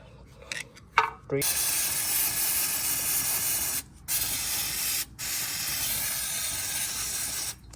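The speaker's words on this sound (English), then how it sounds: "Alright, brake cleaner." Aerosol brake cleaner sprays in long, loud hissing bursts over the engine of a first-generation Toyota Tacoma V6 during a valve cover gasket job, with a few brief pauses and some clicks at the start.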